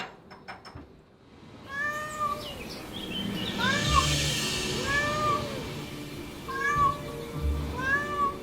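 A cat meows repeatedly, long drawn-out wailing cries in a series, close by, over a low background rumble.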